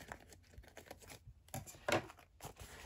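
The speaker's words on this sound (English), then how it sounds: "Or you can tear it if you wanted to just tear it up" Paper being torn up by hand, a few short ripping bursts with the loudest near the middle, quiet and close with gaps between tears.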